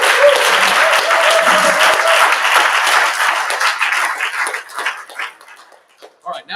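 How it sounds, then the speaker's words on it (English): An audience applauds the board of trustees with a sustained, dense burst of clapping that tapers off near the end, leaving a few scattered claps and some faint voices. "So I want to give a round of applause to all of the board of trustees and Colleen in particular"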